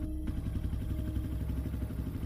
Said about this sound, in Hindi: उसने जल्दी से बाइक स्टार्ट की। इस बार बाइक पहली किक में स्टार्ट हो गई